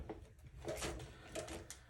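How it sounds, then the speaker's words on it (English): A desk drawer is pushed and jostled but will not shut, giving a couple of dull rattling scrapes and thumps close by, fairly quiet against a soft room background. "the drawer is not closing"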